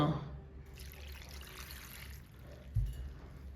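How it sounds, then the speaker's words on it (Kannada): Water is poured into a pot of Karnataka-style mixed greens sambar, a faint trickle and pour heard up close, with a brief louder splash near the end. "ಇನ್ನು ಇದಕ್ಕೆ ಇನ್ನೊಂದು ಸ್ವಲ್ಪ ನೀರು ಹಾಕ್ಬಿಟ್ಟು"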